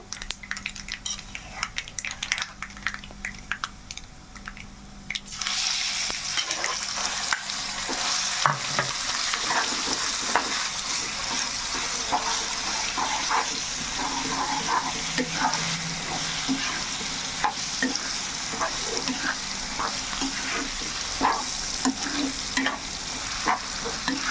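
Gongura chutney hits a hot mustard-seed tempering in a pan, with a quiet sizzle giving way to a loud, steady frying hiss and repeated scraping and clinking stirs throughout.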